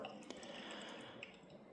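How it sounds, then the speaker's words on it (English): A citric acid and water solution fizzes on a rusty 1964 Bridgeport Albrecht 3-13mm drill chuck, a faint, continuous crackling hiss with tiny scattered pops and drips. "So we'll leave that fizzing away there for about an hour"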